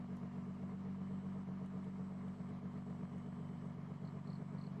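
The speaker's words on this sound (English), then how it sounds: "You know, hear the engine just roar." Racing car engine in the Forza Horizon 6 video game, holding a steady, droning mid-pitched note with a buzzing rumble throughout, fairly quiet and with no talk.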